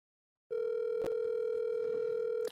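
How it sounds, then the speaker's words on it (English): A steady telephone dial tone while a call is placed on a talk show, starting abruptly after a short silence and holding one even, continuous pitch, with a brief click partway through. "We're calling him right now."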